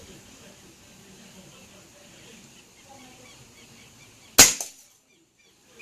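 A single sharp gunshot cracks out at a bottle target 30 metres away, loud and abrupt near the end, after a quiet stretch of faint background ambience with birds.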